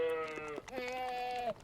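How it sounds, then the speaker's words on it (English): Transgenic goats carrying a spider gene bleat, with two or three wavering, nasal calls close by, the last one long and drawn out, and no talk over them. "Now, thanks to Randy, these goats have just a little bit of spider in them."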